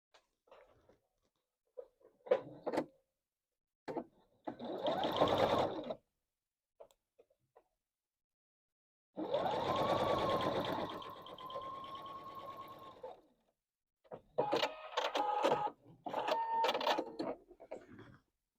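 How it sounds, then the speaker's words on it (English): A sewing machine stitches quilt block pieces in several short bursts of rapid mechanical whirring, separated by quiet pauses with small handling clicks, close and moderately soft. "this gets sewn onto the end of this"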